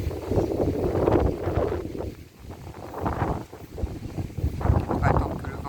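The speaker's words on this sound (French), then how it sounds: "On va attendre que le vent se passe." Gusty wind buffets the microphone in loud rumbling waves, rising and easing, with faint voices in the background.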